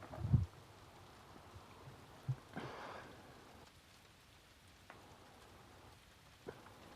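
Steady rain falls in a continuous hiss, with a few louder thumps and drips standing out at irregular moments, heard alone.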